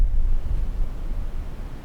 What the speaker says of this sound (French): le vent est en train de se lever, ça continue de souffler